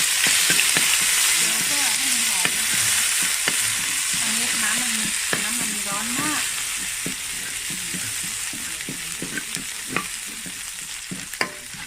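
Pounded garlic and chili sizzle and crackle in a hot pan as they are stir-fried for a snail curry, with loud continuous frying, scraping stirs and brief clinks close up.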